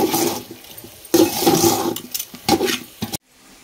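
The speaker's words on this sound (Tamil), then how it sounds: "இதால ரெண்டு வட்டா தண்ணி அளந்து வச்சிருக்கோம், அதை சேர்த்துக்கிறங்க" Water is poured onto rice for mushroom biryani, a loud, close splashing and gushing in several surges that stops abruptly at the end, with no voices.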